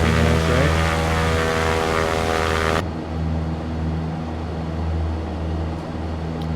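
Cessna Skyhawk propeller engine in the X-Plane 11 flight simulator, a loud droning hum with a strong steady tone that drops in level partway through and continues more quietly, with no talk.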